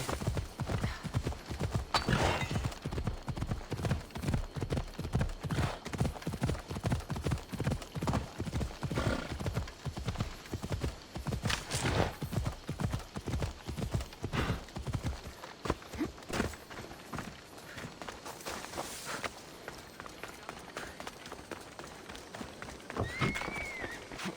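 A horse gallops steadily in Assassin's Creed Odyssey, with fast rhythmic hoofbeats running throughout, briefly easing to a slower pace near the end, and occasional whinnies and snorts over the hooves.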